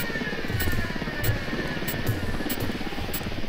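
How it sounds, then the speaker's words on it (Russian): An attack helicopter approaches in the Ghost Recon Wildlands video game, its rotor thudding in a steady rhythmic chop with a faint whine, moderately distant and alone for a few seconds. "К нам вертушка."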